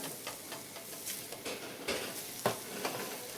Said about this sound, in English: So we're going to saute them.